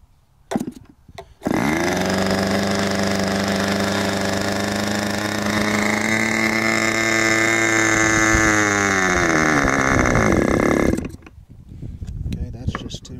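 A K&B 40 glow model engine runs loud and steady for about ten seconds, its buzzing drone shifting pitch partway through, then cuts off abruptly, leaving only faint handling noise.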